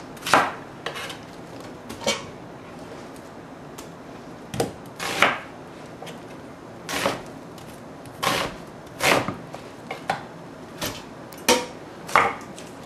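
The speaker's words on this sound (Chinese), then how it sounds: "给它切大块一点" A knife chops beef into large chunks for curry on a cutting board, giving sharp, irregular thuds spaced about a second apart, close and clear with no talking.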